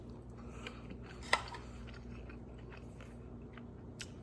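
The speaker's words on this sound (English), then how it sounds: "Sorry for the chewing, but it's for science." Someone chews a mouthful of steamed steak and rice from a meal-kit dinner, with soft wet mouth sounds, one sharp bite click and a few faint crunches close to the microphone, without speech.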